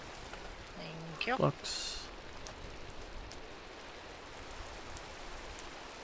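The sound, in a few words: rain falling in the video game Minecraft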